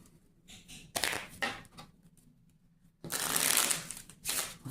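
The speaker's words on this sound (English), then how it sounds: "Shuffle up, shuffle up." Playing cards being shuffled in two quick riffling bursts, close and crisp, with short quiet gaps between them.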